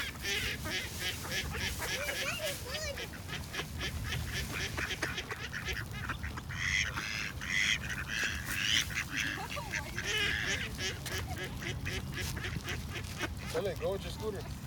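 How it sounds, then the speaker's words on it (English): Ducks and geese honk and quack steadily at a lake park while being fed, close and lively throughout, with people talking over the flock. "Oh, beautiful bird."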